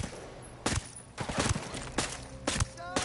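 Video game gunfire cracks out in repeated bursts, several loud shots spaced across a few seconds over a busy background of game noise, with no clear talking.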